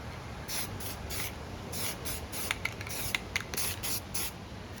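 Spray paint hisses from an aerosol can onto thick wood in a series of short bursts, some brief and others longer, with a few faint clicks between them and no talking.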